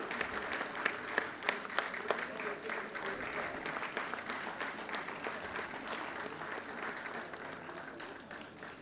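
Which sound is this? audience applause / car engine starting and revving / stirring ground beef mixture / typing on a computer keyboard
audience applause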